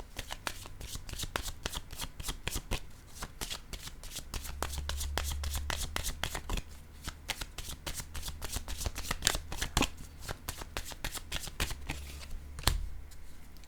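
Tarot-style cards are shuffled and drawn for a card reading, rapid crisp riffling and flicking bursts repeating close up, with a soft low hum underneath and no talking.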